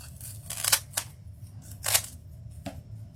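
Scissors snip basket decoration material for a holiday tobacco basket, with a few close, sharp cuts spaced irregularly and a quiet room in between.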